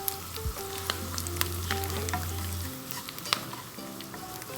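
Chicken sautéed with dried coriander in a pan, a close continuous sizzle with metallic clinks of stirring and a low hum that cuts out partway.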